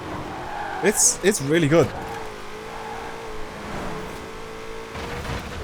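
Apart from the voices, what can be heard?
2020 Shelby GT500 engine in Forza Horizon 4 video game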